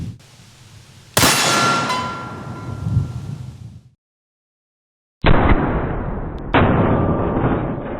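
A shotgun slug fires with a sharp, loud blast and ringing clang off a steel target, followed by silence, then two more booming, drawn-out reports in slow-motion replay.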